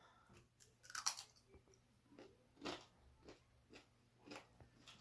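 Crispy homemade cured and smoked bacon with eggs being chewed up close, a run of sharp crunchy bites followed by quieter rhythmic chewing, with no talk.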